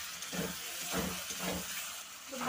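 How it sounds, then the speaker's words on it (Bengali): A spice paste of cumin powder, tomato, ginger, green chilli, yogurt and turmeric sizzles in a pan, a continuous close hiss with soft rhythmic stirring scrapes pulsing underneath. "তো ভালো করে একটু কষিয়ে নেব মশলাটা"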